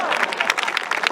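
Audience at a college theatre night clapping, a brief dense burst of applause from a crowd, with a voice speaking over it.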